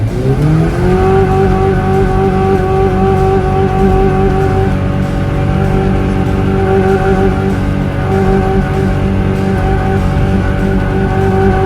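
Off-road vehicle engine held hard against its rev limiter on a washed-out off-road park trail, a loud, close, continuous buzzing drone that climbs in the first second and then stays pinned, with no voices.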